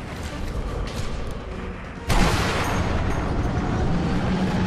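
A grenade blast in the World War II shooter Sniper Elite V2 hits as one sharp, loud boom midway through, followed by sustained rumbling noise, with faint scattered gunfire beforehand and no talk.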